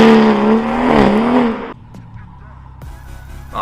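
BMW M140i with a loud aftermarket exhaust heard from inside the car while driving, a strong droning engine note for about two seconds that cuts off abruptly into quieter cabin rumble and faint road noise.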